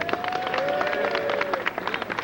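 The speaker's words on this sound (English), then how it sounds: "We can show him our appreciation by a nice round of applause" Crowd applause at a Hollywood Walk of Fame star ceremony for Ray Harryhausen: a dense, steady patter of many hands clapping, with whistles and cheers rising over it for the whole stretch.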